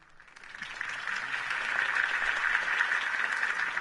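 A video game crowd breaks into applause that swells quickly and holds as a dense, steady clapping roar.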